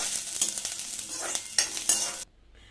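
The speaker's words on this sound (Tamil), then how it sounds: "இதில் இந்த சாமான்லாம் போட்டு நம்ம வறுக்கணும்" Ingredients for rasam spice powder sizzle and crackle in hot coconut oil while a spoon scrapes and stirs the pan, close and busy, then the sound cuts off abruptly near the end.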